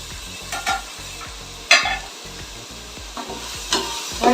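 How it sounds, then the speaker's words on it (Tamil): Onions and tomatoes sautéing in a pan for ghee rice, a soft sizzle punctuated by a few louder scraping stirs of a spoon, close and alone. "வெங்காயம், தக்காளி எல்லாமே நல்லா வதங்கிட்டு"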